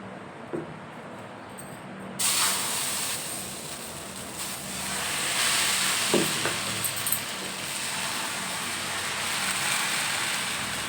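Appam batter is poured into a hot pan on a low flame, and a steady sizzling hiss begins abruptly and keeps going, fairly close, with faint clatter and no talking.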